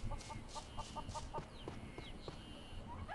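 Chickens cluck in the video game Boku no Natsuyasumi 3 on a farm, a run of short repeated clucks and squawks close by over a steady game background.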